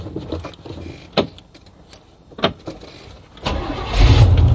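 An old car with a manual choke cranks with uneven, labored turns and several faltering attempts, then catches and starts, its engine swelling into a loud, rough running rumble at the end; no talking.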